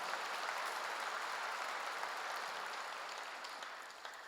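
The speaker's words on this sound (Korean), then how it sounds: "박수로 하나 더 해주세요" A church congregation claps in a sustained round of applause, soft and somewhat distant, holding steady before slowly tapering off, with no voices over it.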